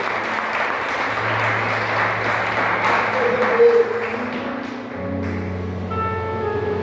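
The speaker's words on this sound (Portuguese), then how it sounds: "Você pode aplaudir ao Senhor?" A church congregation at a Brazilian doctrine service claps in a sustained, steady wash of applause, with sustained organ or keyboard tones underneath and the tones shifting near the end.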